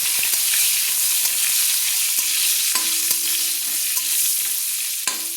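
Eggplant pieces seasoned with turmeric and salt are stir-fried in a pan, giving a steady close sizzle broken by sharp scrapes and clinks of a spatula against the metal, with no talking.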